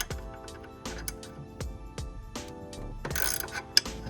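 A Craftsman wrench works a pulley puller on the power steering pump of a Chevrolet S10, giving a series of quiet, evenly spaced metallic ratcheting clicks and knocks close by.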